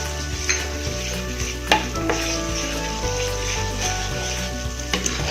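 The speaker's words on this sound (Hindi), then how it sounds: "लहसुन बिल्कुल थोड़ा डालना है।" Garlic hitting a hot pan over a medium flame, a steady close sizzle of frying with stirring scrapes and a few sharp clinks from a spoon against the pan, with no talking.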